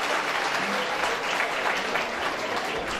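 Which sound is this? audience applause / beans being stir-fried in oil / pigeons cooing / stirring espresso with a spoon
audience applause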